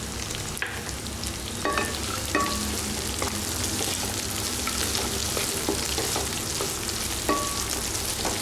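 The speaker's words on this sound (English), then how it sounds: "fry this for 1 minute" Coconut pieces and green chilies fry in a pan for a brinjal dish, a steady dense sizzle running throughout with a few sharp pops and spatula clicks scattered on top.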